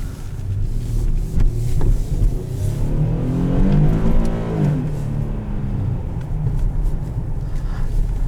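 A 2018 Ford Taurus SEL pulls hard, its engine note rising and then falling beneath heavy wind and cabin rumble, heard from inside the car with no talk.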